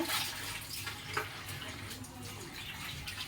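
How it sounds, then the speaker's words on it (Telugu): Prawns are rinsed under running tap water for a Sunday curry, a soft splashing trickle with irregular little splashes as they are handled, quiet and close with no talking. "వాటర్తో అయితే క్లీన్ చేసుకుంటాను"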